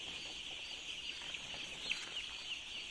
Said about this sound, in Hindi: ये डे टू के चिक्स हैं